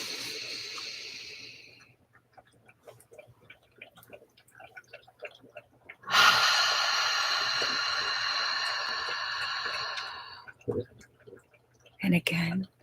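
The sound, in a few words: deep breathing during a meditation exercise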